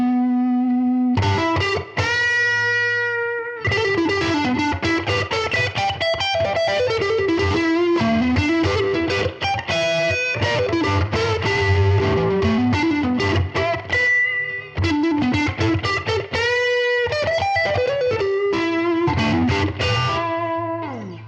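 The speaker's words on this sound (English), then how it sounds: "Bit of drive just to that neck pickup." Fender Player II Telecaster played through its neck pickup with overdrive: a continuous, loud, singing lead line of bent and sliding notes and fast runs, with brief pauses, alone with no talking.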